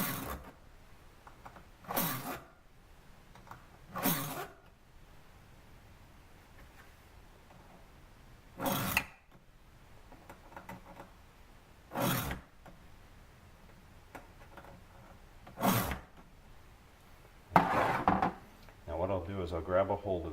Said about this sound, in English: And you notice I'm only filing in one direction.